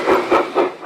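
Electric-powered model trains run at the New York Botanical Garden holiday train show, giving three quick, rhythmic rumbling clatters close by with no voices over them.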